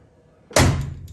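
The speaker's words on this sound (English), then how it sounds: "how does it sound when you open and close the door?" A Mustang restomod's car door shuts with a single loud, solid thunk about halfway through, after near silence, then a short decay.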